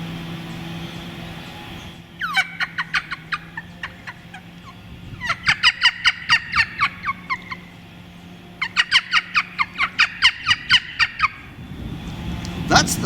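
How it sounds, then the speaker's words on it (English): A wild turkey hen calls out in the spring bush with loud, close bursts of rapid yelps, three separate runs of evenly spaced notes with short pauses between them, over a faint steady background hum and no talking. "That's the sound of a wild turkey,"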